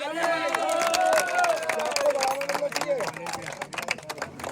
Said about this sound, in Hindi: दोनों के लिए तालियां बजा दो।